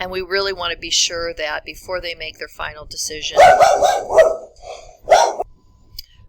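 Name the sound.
dogs barking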